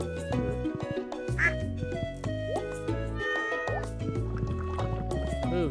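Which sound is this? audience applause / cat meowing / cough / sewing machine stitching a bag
cat meowing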